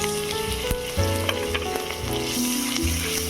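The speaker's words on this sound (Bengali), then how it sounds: "এবারে দিয়ে দেব পেঁয়াজ কুচি, আদা বাটা, রসুন বাটা।" Chopped onion with ginger and garlic paste frying in a pan after bay leaf and dried chilli, a dense, continuous close sizzle with occasional stirring scrapes and clicks, no talk over it.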